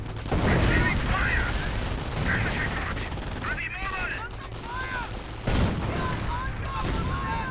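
Gunfire and explosive blasts from StuH and StuG assault guns hitting a squad of riflemen in a US versus Wehrmacht real-time strategy match, dense and continuous under a commentator's steady speech.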